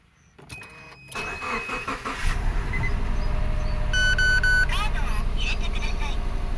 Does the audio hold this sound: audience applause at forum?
no